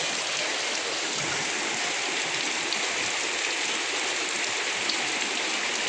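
Swollen floodwater rushes past stones in a dense, continuous roar of hissing, churning water, loud and steady across the whole stretch with no voices.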